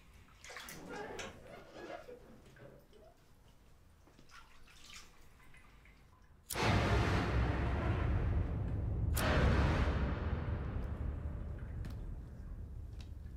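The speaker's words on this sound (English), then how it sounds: "the water moving." Cartoon water in a Tom & Jerry episode starts with faint drips and trickles, then bursts into a loud rushing gush that keeps churning steadily, swelling briefly once more partway through.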